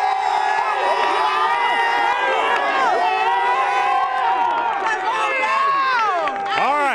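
Crowd at a high school football game cheering and shouting loudly up close, many young voices whooping and yelling together in a dense, continuous roar with rising and falling cries.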